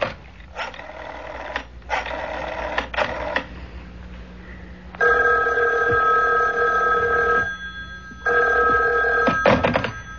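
An old-fashioned telephone bell rings in a radio mystery drama, loud bursts of ringing separated by short pauses, repeating several times with no voices.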